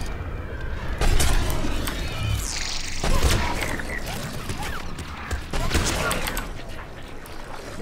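Gunfire in Mass Effect 3 during a battle on Earth: steady, continuous shooting and weapon clatter under a loud, busy game mix, with a few sharper bursts standing out.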